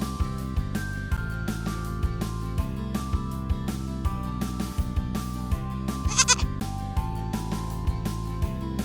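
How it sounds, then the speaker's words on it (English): A goat bleats once, a short wavering cry standing out over steady background music with a plucked melody. "G-O-A-T goat."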